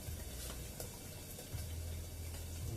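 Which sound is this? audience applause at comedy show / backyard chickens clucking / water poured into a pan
water poured into a pan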